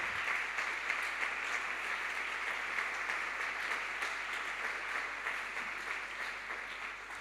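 Steady applause from a church congregation fills the room at a sermon, an even, sustained wash of clapping held at constant loudness throughout without pause.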